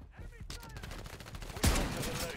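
Video game gunfire from Call of Duty Black Ops 6: a rapid burst of shots with a loud, harsh blast near the end, set against in-game sounds.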